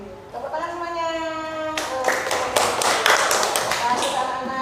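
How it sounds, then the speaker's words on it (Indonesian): A group of children clapping their hands together in a classroom, a burst of dense, fairly loud applause that starts after a sustained tonal sound and continues steadily to the end. "Tepuk tangan semuanya."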